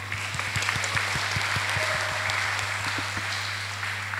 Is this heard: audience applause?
yes